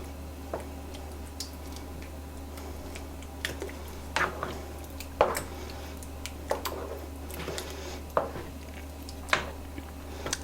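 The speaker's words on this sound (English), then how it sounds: "I'm going to stir this together." A spoon works through a turkey lasagna mixture in a pot, making soft, scattered clicks and scrapes at irregular intervals over a steady low kitchen hum.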